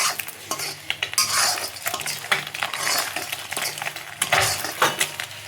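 Boiled eggs fry in a pan with turmeric and chilli powder, giving a steady sizzle broken by sharp pops and spatters and the clatter of a spoon stirring against the pan.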